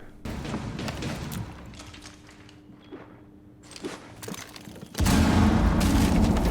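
A grenade goes off in the tactical shooter Rainbow Six Siege. Scattered thumps and shots over a quiet stretch give way to a sudden, loud, sustained blast near the end.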